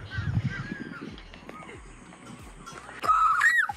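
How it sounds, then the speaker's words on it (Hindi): A koel and other birds call at sunset on a campus in Greater Noida, with scattered calls in the distance and a louder, rising call near the end; no one speaks. "और ये पीछे कोयल और पक्षियों की आवाज।"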